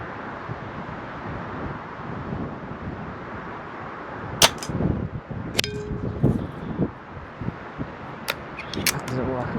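A Weihrauch HW90k air rifle fires QS Streamline pellets outdoors, giving several sharp, separate cracks spaced a second or so apart over a constant wind rumble.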